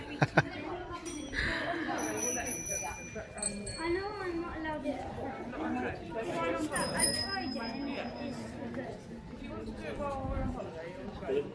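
Small souvenir bells tinkle and chime in short, bright bursts at several moments, ringing under near, continuous talking and background chatter.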